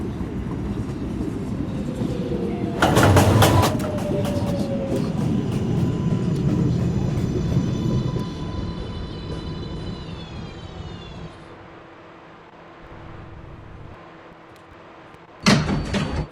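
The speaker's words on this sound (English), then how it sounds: "Stand clear of the closing doors, please." Doors of an R142A 2 train on the New York City subway rumble and slide shut in a loud burst at a station, set against the steady hum of the train, with a second burst near the end.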